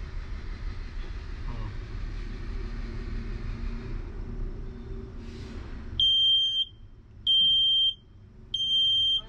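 During a smoke test, a non-addressable smoke alarm sounds three loud, shrill, sustained beeps separated by short gaps. Before the beeps there is a low, rumbling background murmur.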